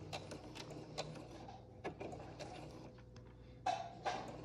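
A sewing machine back stitches to lock a seam on a homemade fabric face mask, a short run of rapid mechanical stitching with a soft hum, quiet and close, ending in a couple of brief louder bursts.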